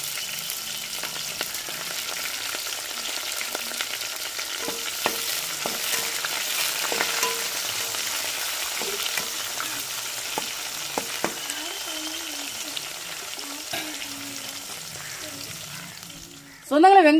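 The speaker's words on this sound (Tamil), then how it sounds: "ரெண்டு வெங்காயம் போட்டுக்கிறோங்க. ரெண்டு பச்சை மிளகாய் போட்டுக்கிறோம்." Onions and green chillies fry in a pan, a steady soft sizzle with occasional stirring clicks and scrapes, running alone for most of the stretch before a louder burst at the end.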